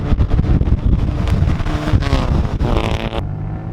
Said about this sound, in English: it's got a fabulous straight pipe exhaust system that really gives it that throaty sound